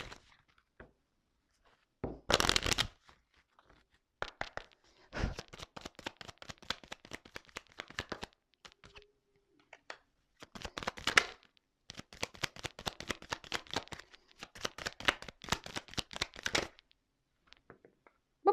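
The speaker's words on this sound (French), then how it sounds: "je vais prendre quelques cartes, juste 3 cartes" Tarot cards being shuffled and drawn: close, papery riffling and flicking in irregular bursts, with soft slaps and brief quiet gaps between handfuls, no talking.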